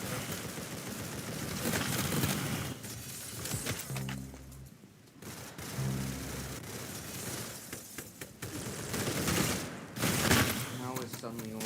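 A video game firefight sounds as a fusillade of shots and crashing impacts, rapid and dense at moderate loudness, while people talk over the noise.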